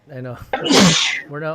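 A single sharp sneeze bursts out mid-conversation, loud and close, with people talking just before and right after it.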